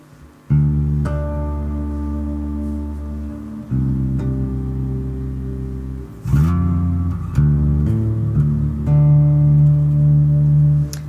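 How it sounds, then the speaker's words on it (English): Bass guitar notes through a reverb/delay pedal ring out in sustained phrases, each washed with a lingering reverb tail, played alone and up close. "This is a really kind of washed out sounding reverb / delay verb."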